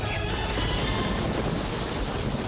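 Dense rain and thunder fill the space with a loud, steady roar, broadband hiss over a heavy low rumble that never lets up, and no one speaks.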